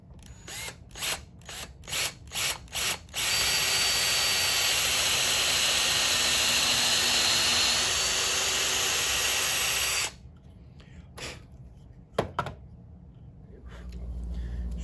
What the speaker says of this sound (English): we're going to use a regular drill